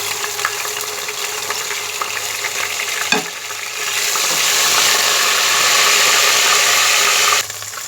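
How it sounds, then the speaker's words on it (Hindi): A tablespoon of garlic ginger paste fries in a cooking pot with a steady, close sizzle that swells louder and brighter about halfway through after a brief clink, then holds until it cuts back near the end. "मैं ये 1 टेबल स्पून लहसुन अदरक का पेस्ट डाल रही हूँ"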